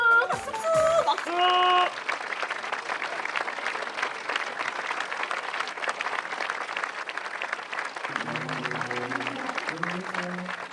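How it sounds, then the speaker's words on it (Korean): A congregation applauds at a Christmas church service, steady clapping that fills most of the stretch. Brief musical tones sound at the start and again near the end. "박수."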